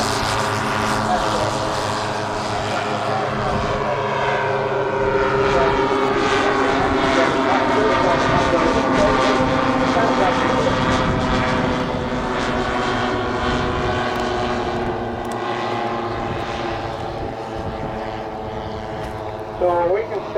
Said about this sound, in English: B-51 airborne, B-50 airborne. They will fly together.